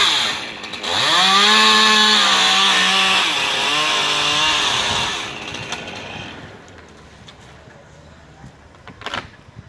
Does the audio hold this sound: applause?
no